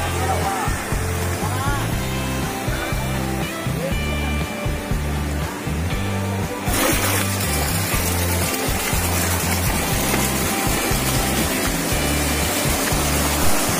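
River water at Leuwi Kupa rushes in a steady broadband roar near the bank, joined by an irregular low rumble that grows slightly denser partway through.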